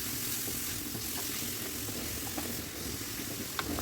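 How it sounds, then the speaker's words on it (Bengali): Grated carrot frying in ghee with split cardamom pods, a dense, even sizzle that holds steady throughout, close by, with a few faint clicks near the end and no voices. "এবার 2টো এলাচকে চিড়ে নিয়ে ঘিয়ের মধ্যে দিয়ে তারপরে গাজরের কোরানো গাজরটা দিয়ে দিলাম।"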